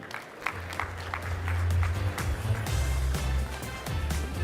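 Applause at a TechCrunch Disrupt tech conference session, clapping over a sustained low musical hum or walk-on music, moderately loud with individual claps standing out.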